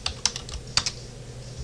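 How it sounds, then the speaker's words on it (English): A few quick keystrokes on a computer keyboard as a value is entered, sharp close clicks in a short irregular burst over quiet room noise. "I'm just going to type that in"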